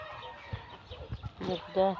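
A few soft, close clucks from 20-day-old broiler chickens raised in a village, one clearer call near the end, amid low background noise.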